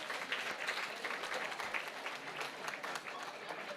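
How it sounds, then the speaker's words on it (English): A burst of steady applause from a crowd at a youth post-election dialogue event, dense and continuous clapping that fills the whole moment without pause. "Let's give them a round of applause, please."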